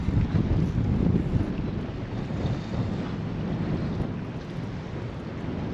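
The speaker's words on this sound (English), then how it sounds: "Wind's really blowing right now." Strong wind buffets the microphone in a steady roar on Lake Perris in California while bluegill fishing from a boat, a continuous low rumble with water movement beneath.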